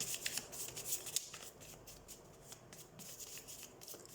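Tarot cards shuffled by hand at close range, a quiet run of soft riffling and rubbing flicks in uneven bursts that taper off toward the end, with no talking.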